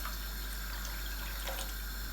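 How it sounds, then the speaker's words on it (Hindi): Two cups of water poured into a spiced besan and onion gravy in a cooking pan, a steady, continuous rushing pour over a low hum, fairly close and unbroken. "पानी में शामिल कर दूंगी 2 कप।"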